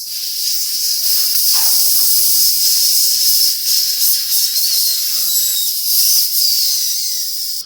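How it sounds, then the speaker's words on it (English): A loud, steady hiss of air rushing out of a 27.5-inch mountain bike tubeless tire valve runs continuously, with small clicks and faint handling noises underneath. "don't be scared when you hear the air outburst, okay? They make a loud noise"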